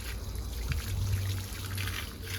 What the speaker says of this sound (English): on the outside, you've got your tap, which when turned on, gives out warm water or hot water